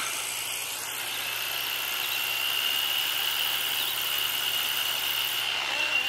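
A 3D printed RC helicopter spinning up and lifting off, its rotor and motor making a steady, loud, close whine and drone that holds throughout with a high tonal hum on top.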